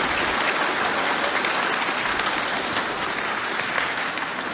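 A debate audience applauds continuously, a thick, loud wash of many clapping hands that stays level throughout with no speech over it.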